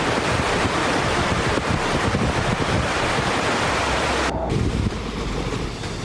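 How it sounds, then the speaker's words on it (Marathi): Water released from the Koyna, Dhom, Kanher and Tarali dams in Satara district roars in a loud, steady broadband rush, with a slight drop in level near the end and no talk. "सातारा जिल्ह्यात कोयना धरणासह धोम, कण्हेर, तारळी धरणातून विसर्ग सुरू करण्यात आलाय."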